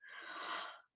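One big, breathy yawn during a guided relaxation and stretching session: a single close, airy exhale lasting about a second, then silence.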